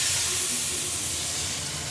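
Fresh cowpea and pigeon pea beans sizzling in hot oil tempering, a steady close hiss that continues without a break.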